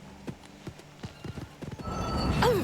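Horse hooves clip-clopping in an uneven patter during combat in the video game Oblivion Remastered, ending in a loud rising whinny, with busy game sound effects behind.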